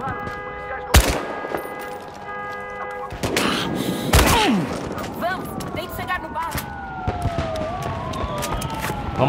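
Gunfire in the video game Battlefield Hardline: sharp loud bursts of shots punctuate a busy battle scene, with sirens wailing and whooping throughout between the blasts.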